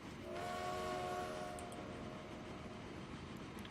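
A train in the Transport Fever game sounds its horn, a sustained tonal blast over a steady low rumble of rolling wagons, then continues running quietly.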